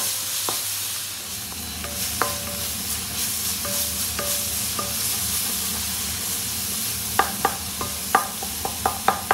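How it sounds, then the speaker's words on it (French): Tomato, garlic, ginger and chilli sizzling in a pan for a Réunion-style brède fricassée, a steady frying hiss broken by sharp clinks of a utensil stirring and scraping, clustering faster near the end. "Et on rajoute tout de suite la tomate. Et là, on laisse cuire."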